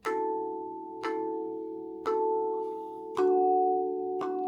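Five struck metallic notes on a steel tongue drum ring out one after another, each sustaining a bright, bell-like harmonic tone before the next strike.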